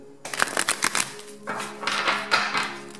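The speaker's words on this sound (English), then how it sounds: "Let me just make sure I shuffle." A deck of oracle cards is shuffled by hand in a series of crisp, papery riffling bursts that come in two close, fairly loud clusters separated by a short pause, with no talking.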